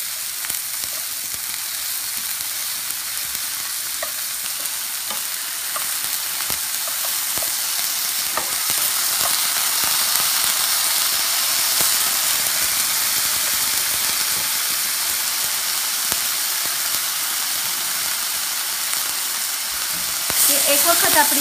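Fish frying in a pan gives a dense, loud, unbroken hiss of bubbling oil that holds steady for about twenty seconds, with faint scattered crackles, close by and without speech.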